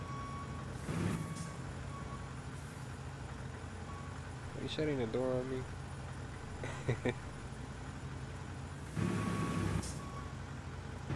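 An emergency truck backs up, its reversing beeps sounding over a steady idling engine, with brief rising tones and bursts of air hiss. Voices talk nearby.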